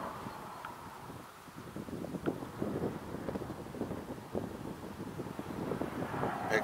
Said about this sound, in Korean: 바람이에요, 바람.